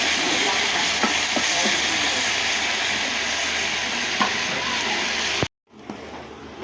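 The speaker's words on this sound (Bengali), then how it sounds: "উচ্ছে ভাজতেছি" Bitter gourd fries in a pan with a loud, steady, close sizzle and a few light stirring clicks, then the sound cuts off abruptly near the end, leaving quiet.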